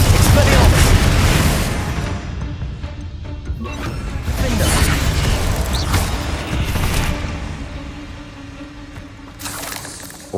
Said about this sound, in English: Confringo! Expelliarmus!